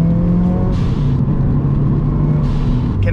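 A car accelerates hard past a house near a corner, its engine note climbing and roaring loudly as it opens up, with a steady motor drone filling the whole stretch.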